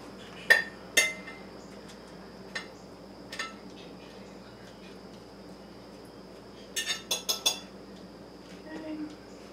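Cutlery and dishes clink sharply while pork chops are plated onto old china plates with a silver rim, a few separate clinks early on and then a quick cluster of taps near the end over quiet room tone.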